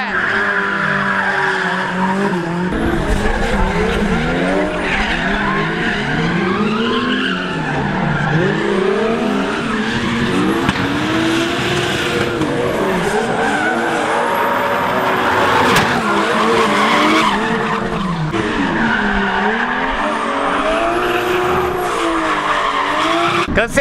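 Race cars, including a Chevette, screech and skid around a track during free practice, with continuous loud tire squeal and engine roar, revving and sliding for the whole stretch.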